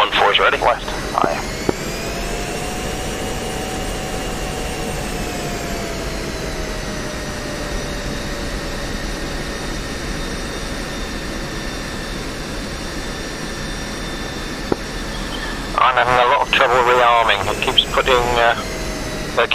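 Jet aircraft in the DCS combat flight simulator, on a naval blockade mission over Jersey, taking off from a runway: a steady, loud turbine roar with rising and falling whine tones throughout, and brief radio-style talk near the end.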